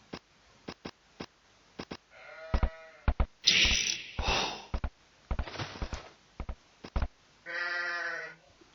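Sheep in the Age of Empires video game bleat several times among sharp clicks and short game effects, the wavering calls coming loud and close with gaps between them.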